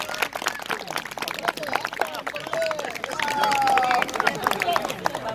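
Marchers on a hiking march through the Bory forest break into a lively burst of clapping that swells toward the middle and stays dense and close, with voices and a few whistle-like tones mixed in.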